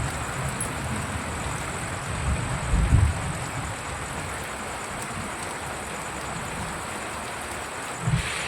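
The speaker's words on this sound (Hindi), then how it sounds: "और बहुत तेज़ बारिश हो रही है और गरज भी रहे हैं" Heavy night rain hisses steadily, with a couple of low, muffled thunder rumbles rising briefly under the downpour and no voices.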